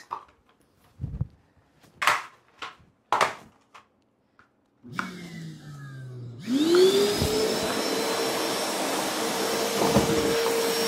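Wet and dry vacuum cleaner sucking up water, a tissue, hair and seed shells from a floor: a few scattered knocks and handling sounds, then the motor whirs up and settles into a loud, steady whining roar.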